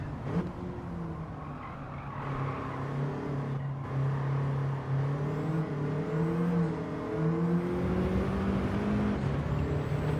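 A race car in Gran Turismo 7 during a National A2 licence test, its engine droning and rising steadily as it accelerates through a corner, with faint tire noise, continuous and fairly loud, no voices.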